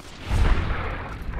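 Heavy gunfire from a big gun in the video game Fallout: New Vegas, one deep booming blast with a rumbling tail, alone and loud.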